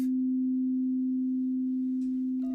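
A steady, pure sine tone hums continuously at a single low-mid pitch, loud and unwavering, with faint soft noises near the end.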